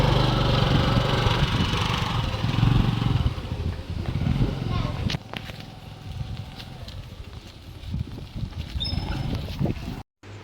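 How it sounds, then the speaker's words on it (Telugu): A small scooter engine drones steadily while riding, with rumbling low noise and some wind, dropping off abruptly near the end. "నేనైతే ఎలా డ్రైవ్ చేస్తున్నాను స్కూటీ"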